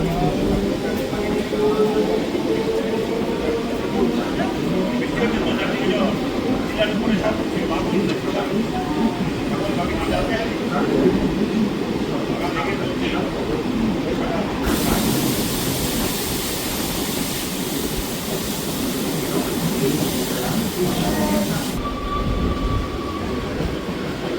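A local commuter train rolls between Sealdah and Madhyamgram, its carriage rumble and rail noise filling the whole stretch steadily from inside the coach, with a voice talking over it and a brief brighter hiss partway through.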